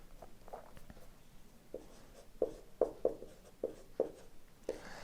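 Chalk or marker writing on a board during a classroom lesson, a series of short scratchy strokes in bursts, moderately close, with no talking.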